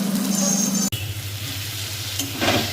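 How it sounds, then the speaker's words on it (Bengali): Spice paste mixed in water hits frying grated tomato in a pan for a Bengali fish korma: after a brief pause the sizzle surges into a loud, steady bubbling hiss that carries on, with a light scrape later. "এবার এতে আমি যে মশলাগুলো একসাথে জলে গুলিয়ে রেখেছিলাম সেটা দিয়ে দিচ্ছি।"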